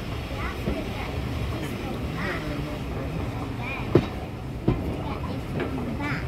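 A steam train, LMS 4F locomotive 43924 on the Worth Valley Railway, rumbles past with steady rolling noise and a couple of sharp clanks, while people chat nearby.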